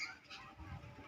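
Pigeons kept for sale, giving low, soft cooing and clucking murmurs close by, continuous over a brief stretch with a faint bed of background noise.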